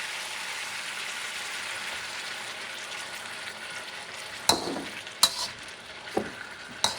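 Food stir-fries with green onions in a carbon steel wok, giving a continuous bright sizzle, then four sharp metallic scrapes of a utensil against the wok near the end.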